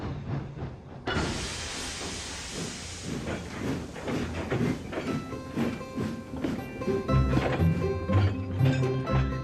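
A loud burst of steam hisses, followed by a train's rhythmic chuffing and clanking that grows heavier, with a low rumble building toward the end.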